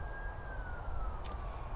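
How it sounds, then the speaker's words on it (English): An emergency siren wails faintly in the distance, a single slowly falling tone over low background rumble, with no speech. "that's why that siren's going off"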